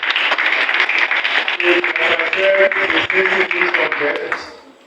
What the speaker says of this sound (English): There's a round of applause for our doctor.